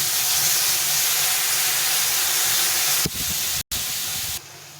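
Yogurt paste dropped into hot oil with red-fried bay leaf tempering gives a loud, steady hiss and sizzle that drops in level partway through and briefly cuts out.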